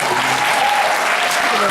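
Audience applause for parents, guardians and grandparents at a school spring concert, a dense loud burst of crowd clapping filling the whole moment, with a voice faintly present.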